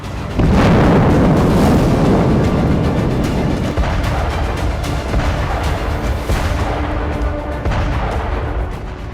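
Depleted uranium artillery shells stored in an arms depot at Ternopil detonating together, a loud continuous rumbling roar of blasts with repeated booming surges, sustained and dense throughout with no voices.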